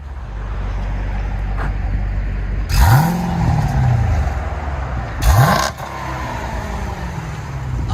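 2014 Jeep Grand Cherokee SRT 6.4L HEMI V8 with a mid-muffler delete and X-pipe on its dual exhaust, idling with a deep rumble, then revved in two sharp blips that rise and fall back.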